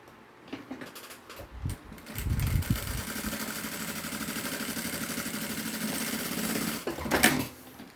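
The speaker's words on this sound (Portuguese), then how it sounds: "Fazer uma costura de segurança." Sewing machine running a steady stitch along a safety seam on a bag, a close whirring motor with a rapid even needle rhythm for several seconds, preceded and followed by handling clicks.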